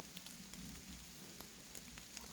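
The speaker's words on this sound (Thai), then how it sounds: "เพราะวันฝนตก" Steady rain patters on a surface, a soft continuous hiss with scattered drips, faint and unbroken.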